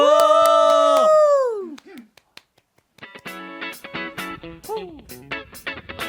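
A studio audience claps along to a live trot radio show performance, with brisk rhythmic handclaps following a sung note and bright backing music.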